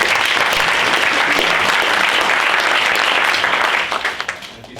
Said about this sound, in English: maybe a round of applause for getting us all here today